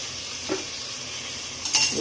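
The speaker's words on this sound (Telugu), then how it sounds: "కొద్ది కూడా లైట్ గా ఫ్రై అయిపోతే జింజర్ గార్లిక్" Ginger garlic paste fries in hot oil in a pan with a constant close sizzle, broken by a couple of light metallic clinks from stirring.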